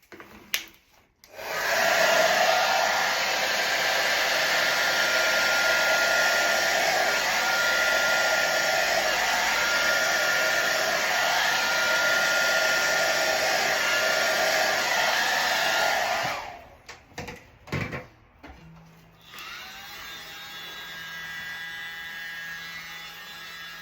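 Hair dryer blowing air over poured paint with black cell activator, a loud steady roar running about fifteen seconds before cutting off, followed by handling noises and a fainter hum.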